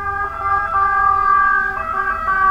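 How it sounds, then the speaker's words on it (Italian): An ambulance siren wails outside in a steady, moderately loud two-tone pattern that rises and falls as the vehicle passes, with no voices over it. "L'ambulanza, tutto bene."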